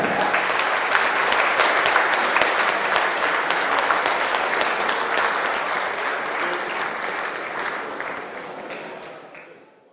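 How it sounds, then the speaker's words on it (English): A large audience gives loud, dense applause at the opening ceremony of a world squash championship, the clapping steady for several seconds before tapering off at the end. "Can we have a big round of applause for that?"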